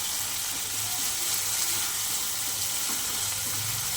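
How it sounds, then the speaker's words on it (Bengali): Spice paste for a pangas fish curry sizzles and fries steadily in a pan, a soft continuous crackle with occasional stirring scrapes. "চলো, মশলাটা ভালো করে আমি কষিয়ে নিই।"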